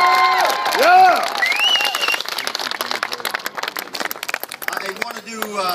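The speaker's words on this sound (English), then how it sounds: "Let's give them a round of applause." A crowd at a Marine Corps Recruit Depot Lima Company moto run finish line claps for the officers and drill instructors, with a loud whoop and cheering at the start, then a sustained wash of applause continuing to the end.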